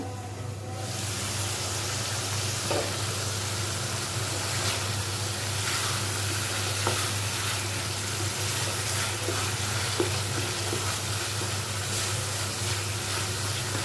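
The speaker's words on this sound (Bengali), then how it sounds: "এবার আমরা ঢাকনা তুলে ভালো করে একটু নেড়ে নেব।" Hilsa fish bagar bhorta sizzles and fries in an open pan while being stirred, a steady loud hiss with occasional soft scrapes, no voices.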